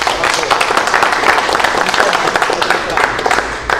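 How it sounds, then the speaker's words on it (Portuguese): A crowd applauds loudly and steadily, dense clapping filling the space from start to finish, with some voices mixed in. "Uma salva de palmas"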